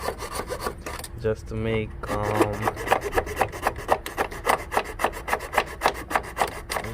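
A saw or rasping tool cuts through a Dodge Dart transmission mount in fast, even back-and-forth strokes, close and steady. Someone speaks briefly partway through.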